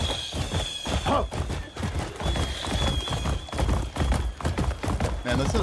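Horse hooves clip-clopping on a wooden surface in a video game, a run of quick, irregular thudding steps close by, with people talking over them throughout.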